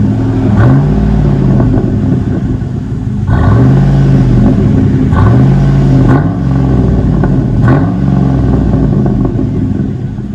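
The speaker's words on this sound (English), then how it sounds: "Give it a little bit higher. Rev it higher." Chevy Avalanche with a 5.3L V8 revving hard through its aftermarket exhaust, four loud, deep rising-and-falling throttle blips over a steady idle rumble, close and with no talking.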